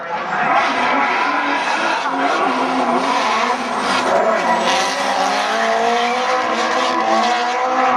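Drift cars race in a D1 GP exhibition match at Englishtown, New Jersey, with loud continuous tire squeal and roaring engines throughout, a commentator talking over the noise.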